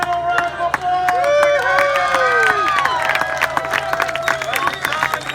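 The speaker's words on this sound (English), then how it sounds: "A little round of applause." Crowd cheering and applause at a bamboo boat race, a dense outdoor roar of clapping and shouting with whistle-like calls rising over it throughout.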